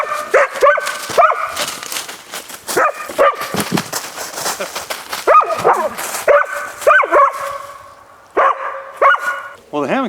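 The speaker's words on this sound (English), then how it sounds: "What's going on with the dog?" A dog barks repeatedly outdoors near a hammock, sharp close barks and yips in irregular bursts, with a person talking between them.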